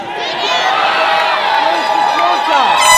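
A wrestling crowd cheers and shouts in a loud, steady roar with high excited voices and whoops, sustained across the whole stretch.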